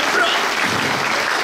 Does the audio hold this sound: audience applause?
yes